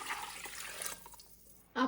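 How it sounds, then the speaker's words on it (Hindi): Hot water poured from a glass into a pot of beef for korma, a steady broadband splash and trickle for about a second, fading out before a brief louder sound at the end. "गोश्त को पकने के लिए इसमें गर्म पानी 3 गिलास डाल लेते हैं।"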